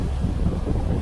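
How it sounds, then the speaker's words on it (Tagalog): Strong wind buffets the microphone outdoors, a loud continuous low rumble with no other sounds. "medyo malakas na hangin"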